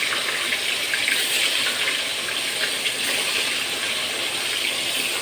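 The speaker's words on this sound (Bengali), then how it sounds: "এখন আমি ভাজবো এই মাছটা, আমি এখন দিয়ে দেব। তেল গরম হয়ে গেছে।" Turmeric- and salt-coated tilapia sizzles in hot oil, a loud, continuous hissing crackle that stays close and even with no pauses.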